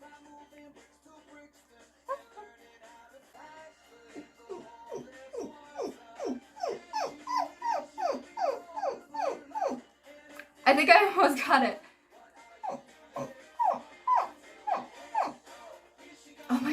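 A human voice imitates gerbil sounds with a run of rapid, high, squeaky chirps in repeated bursts, broken by a brief louder noisy outburst, and a short spoken remark near the start.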